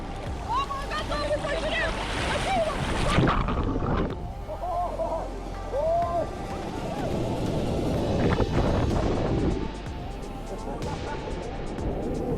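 Large surf waves breaking on a Hawaiian shore, a steady roaring wash with wind buffeting the microphone and people calling out over it.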